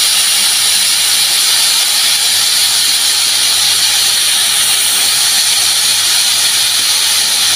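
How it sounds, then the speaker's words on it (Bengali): Steam hissing loudly and continuously from a pressure cooker of egg khichuri as its weight is lifted off, a harsh unbroken close-up jet of steam with no talk. "এখন প্রেসারের শীষটা বের করে দিচ্ছি।"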